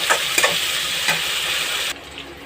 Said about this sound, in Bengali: ওইটা আমি এর মধ্যে মিশিয়ে নেব ভালোভাবে